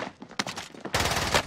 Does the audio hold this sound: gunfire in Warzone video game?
yes